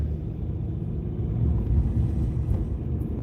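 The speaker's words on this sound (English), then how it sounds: "This truck's loud." Loud truck engine rumbling while driving, a steady deep low rumble heard from inside the cab that swells slightly midway, with no talking.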